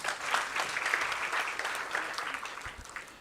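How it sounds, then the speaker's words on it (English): Sustained applause from a seated audience at a college welcome event, a thick wash of clapping that peaks early and gradually tapers off. "Another round of applause."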